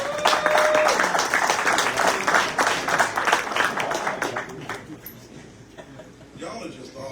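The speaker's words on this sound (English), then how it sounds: "you just give yourselves a round of applause" Audience applause at an outdoor clay shoot fundraiser, a crowd clapping steadily and fairly close for several seconds before thinning and fading out, with voices talking over it and a dog yipping nearby.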